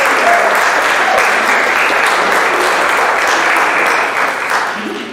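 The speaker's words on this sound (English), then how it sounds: "Give him a round of applause." A church congregation claps for a drummer at a Sunday service: loud, dense applause filling the room, holding steady before fading slightly at the end.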